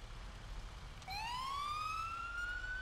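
Fire engine siren wailing in GTA V during a code 3 response to a commercial structure fire, starting abruptly after a second and rising steadily in pitch, loud and close with no talk over it.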